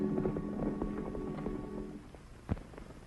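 Horse hooves clip-clop on the ground in a 1939 western, several quick irregular hoofbeats of moderate loudness, with one sharper thud near the end.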